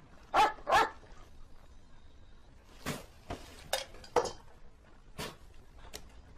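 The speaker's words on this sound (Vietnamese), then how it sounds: "Mày sủa gì?" A dog barks in a series of sharp, close, loud barks, a quick pair first, then several more scattered irregularly after a short pause.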